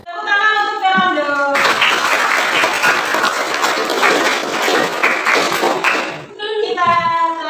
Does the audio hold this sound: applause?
yes